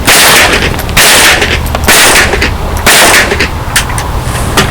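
Rapid bursts of loud, sharp gunshots from a Mossberg Blaze 47 .22 long rifle, several strings of close cracks fired in quick succession with brief pauses between volleys.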